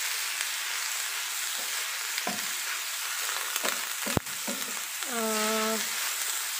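Mushrooms stir-fried with spicy seasoning sizzle steadily in a pan, with occasional scrapes and knocks of a utensil and a brief tonal squeak near the end. No one speaks.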